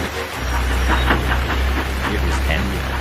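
A steam train engine draws nearer, a low rumbling roar with hissing steam and faint rhythmic chuffs building steadily, heard in a rainy scene.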